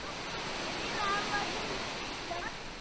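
A waterfall flows down the mountain at Dan in northern Israel, giving a steady broad rushing wash of water at moderate level, with faint higher tones drifting over it.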